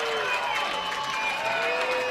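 A softball tournament crowd on its feet makes a steady wash of cheering and noise, dense and continuous with no distinct breaks.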